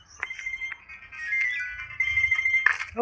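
A mobile phone rings with an incoming call, playing a bright electronic melody loudly and close by. The tones come in short repeating phrases with no one speaking.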